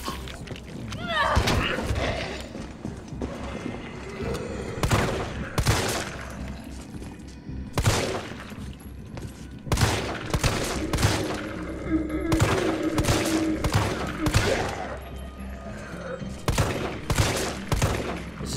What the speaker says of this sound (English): This is taking too many bullets.